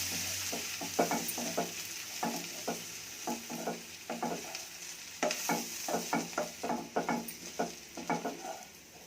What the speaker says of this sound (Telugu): పప్పులు అట్లా ఈ పౌడర్ అంతా ఇందులోకి వేసి అంతా కలుపుకోవాలి.